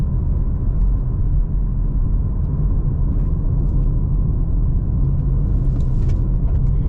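A 2024 Hyundai Tucson SE SUV drives down a hill with a steady, loud, low road-and-engine rumble that stays even throughout, with no talking.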